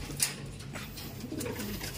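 A crested pigeon gives soft, faint cooing as it is handled for release, short low calls over quiet background rustling.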